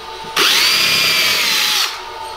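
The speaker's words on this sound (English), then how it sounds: "And we pre-drill those because they're kind of thin." A power drill whirs loudly for about a second and a half, pre-drilling thin willow wood for a chair, then winds down; nothing else is heard.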